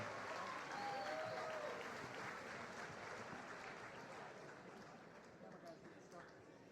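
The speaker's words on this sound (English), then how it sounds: "give him a round of applause one more time for your winner" A crowd at an amateur fight event applauds the winning fighter, a faint, distant wash of clapping and cheering that continues steadily throughout.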